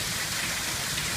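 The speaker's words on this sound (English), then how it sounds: "It's been raining all morning." Steady rain pours down outdoors after a morning-long downpour, a dense, even hiss with no voices.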